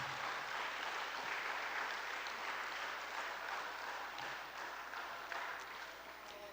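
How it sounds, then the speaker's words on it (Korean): Church congregation applauding at a Sunday gathering in Daegu, a steady broad wash of clapping throughout that fades slightly toward the end, with no talk over it. "우리 박수 한번 또 치고 넘어갑시다"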